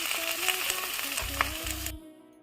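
Ginger and garlic paste frying in a pan, a steady close sizzle with scraping stir strokes, low bubbling bursts and faint voice-like tones, cutting off near the end.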